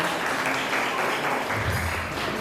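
Sustained applause from an audience at a Jakarta commemoration event for the May 1998 tragedy, a dense even wash of clapping lasting the whole stretch without pause.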